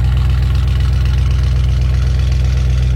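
A loud, deep engine rumble from an Audi RS6 C8 Stage 2 with a Milltek exhaust and no silencer, idling steadily, with a throbbing low pulse and constant exhaust drone, nothing else heard.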